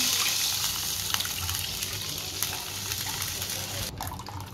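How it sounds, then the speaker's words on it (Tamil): Half a litre of thick milk pours into a kadai in a continuous gushing, splashing stream for several seconds before tapering off near the end. "இப்போ அதே கடாயில் ஒரு 1/2 லிட்டர் கெட்டியான பால் சேர்த்துப்போம்"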